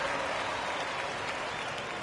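Steady applause from a crowd in the basketball video game NBA 2K25 fills the whole moment, a dense wash of clapping at an even level.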